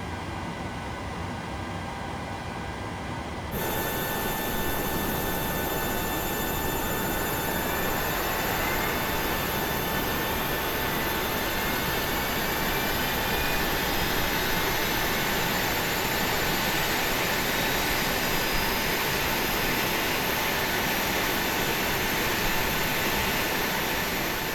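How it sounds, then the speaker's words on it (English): Airliner jet engine spooling up during startup in Microsoft Flight Simulator, a steady broadband roar that jumps sharply louder after a few seconds and then holds a loud, even drone with a faint rising whine, no talking. "So let's start engine number 2."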